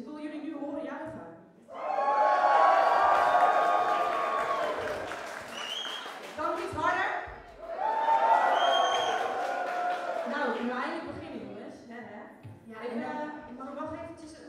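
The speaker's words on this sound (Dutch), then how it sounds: "Dus ik wil jullie nu horen juichen." A school pop-concert audience in a hall cheers and whoops in two loud, sustained bursts with applause, separated by a brief lull and followed by scattered voices and someone talking.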